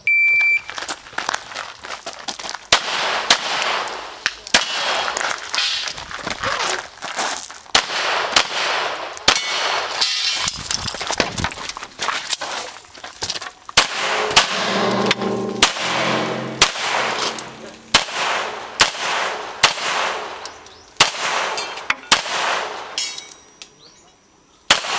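Handgun shots fired in a shooting range drill, a long run of sharp loud reports at uneven intervals, some in quick pairs, with a brief electronic beep at the start and occasional metallic clangs.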